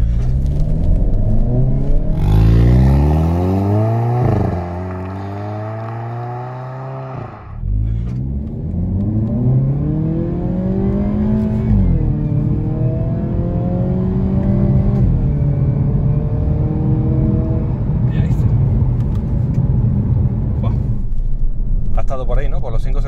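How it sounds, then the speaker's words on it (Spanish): A 2022 Hyundai Kona N with 280 hp accelerates hard from a standstill to 100 km/h in N mode, its engine note rising loud through several gears with clear dips at each shift, heard from inside the cabin. "Y vamos a ver el 0 a 100, a ver en cuánto lo podemos hacer."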